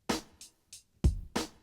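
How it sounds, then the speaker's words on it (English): Short drum beat programmed on an MPC and quantized rigidly to sixteenth notes; five crisp, evenly spaced hits alternate heavy low thumps with lighter, brighter ticks, quiet and dry with no talking. "if you're just doing it on 16th notes, a drum beat might sound like this"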